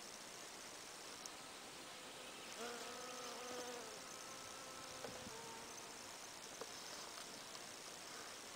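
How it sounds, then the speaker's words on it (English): A steady, dense buzz of many bees fills the air, with individual insects droning past closer now and then. "Bees make the coolest sound."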